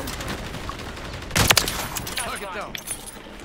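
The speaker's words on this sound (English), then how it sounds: "I'm gonna snipe again, watch" A single sharp sniper rifle shot rings out in the video game Rust, one loud crack with a short tail, while players talk over it before and after.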